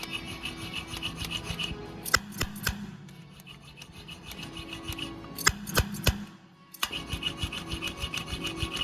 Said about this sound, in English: Yeah, just grind it a little more till it's clean.